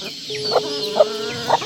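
Chickens cluck nearby in three short, evenly spaced calls over a steady background hum, with no speech.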